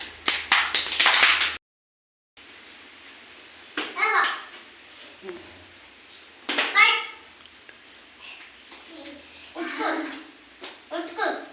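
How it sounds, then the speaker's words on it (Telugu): A group of children playing a game clap in a quick, dense burst that stops abruptly, followed by scattered children's voices chattering and calling nearby. "వెరీ గుడ్, క్లాప్స్ కొట్టండి."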